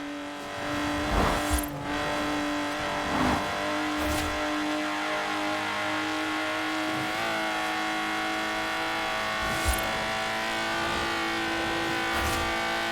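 A Lotus Exige sports car drives in Forza Horizon 4, its engine holding a steady, buzzing note that swells in several brief revs and gear changes, loud and continuous throughout.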